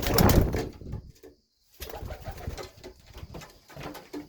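Pigeons coo in soft, repeated throaty calls, close by and with no one talking, interrupted by a short silence partway through.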